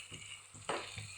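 Onions frying in a pan until reddish, a quiet, brief sizzle with a few soft stirring scrapes and one louder burst partway through.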